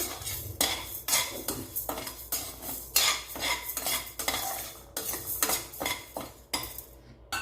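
Moong dal dry-roasts in a pan while a metal spoon stirs it, producing repeated, rhythmic scraping and clinking strokes, close and fairly loud, with no talk.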